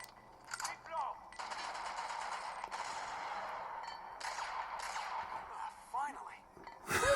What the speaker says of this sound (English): I just shot him like 3 times, 4 times. He's still alive.